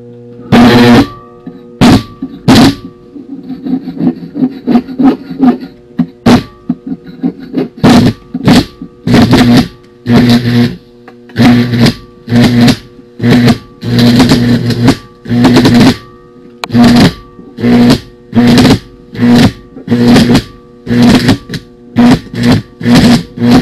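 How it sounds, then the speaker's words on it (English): A homemade welder striking and running a small weld rod, a series of loud crackling arc bursts repeating in an irregular rhythm with brief gaps, close and alone. "We'll try to do some welding."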